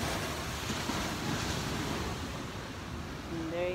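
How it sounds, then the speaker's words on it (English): Big ocean waves at Laguna Beach roll in as a broad, continuous roar of surf with wind buffeting the microphone, close and fairly loud, with no speech. "I show you the waves. So big waves here."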